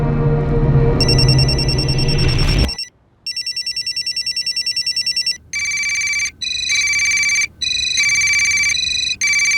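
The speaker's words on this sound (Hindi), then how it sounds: "विवेक की माँ का फोन बज रहा है सर।" A mobile phone ringtone, loud and close, starts after a burst of dramatic music and then repeats in steady bursts of bright tonal chirps in a tense crime-drama scene about a kidnapping.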